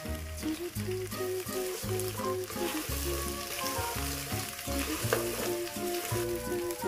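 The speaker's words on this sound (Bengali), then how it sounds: "এখন এখানে দিয়ে দিচ্ছি পেঁয়াজগুলোকে বড় করে দিয়েছি" Mutton pieces and large-cut onions fry in a pan, a steady hissing sizzle running under prominent background music.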